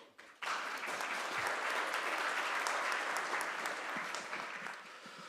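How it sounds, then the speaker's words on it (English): Audience applause fills a conference hall after a welcome address at an infrastructure summit, starting abruptly and holding steady, dense clapping for several seconds before easing slightly at the end. "Please give them all a big round of applause."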